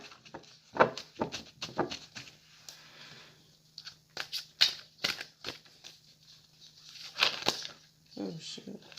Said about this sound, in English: Let's pull some oracle cards from Queen of the Moon Oracle.